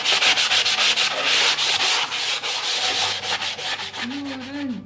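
Steady back-and-forth scrubbing of sandpaper on a wooden chest of drawers, loud and close, with rhythmic strokes about four per second and no talking.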